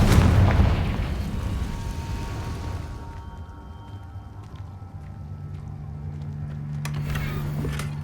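A Confringo spell explosion in a Harry Potter video game opens with a loud booming burst that decays into a low rumble, followed by a steady hum and a fainter second blast near the end.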